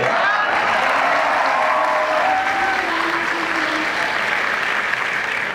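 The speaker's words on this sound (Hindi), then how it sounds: "कैसी तालियां बजा रहे मुस्तकबिल के शाह" An audience at a comedy mushaira at Government College University Lahore breaks into loud, sustained applause, a dense wash of clapping that holds steady throughout with faint voices mixed in.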